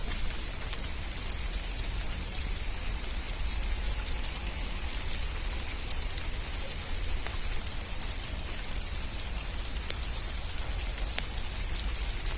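Steady rain falls outdoors in a continuous, even hiss with faint drips, unbroken for the whole stretch and with no voices.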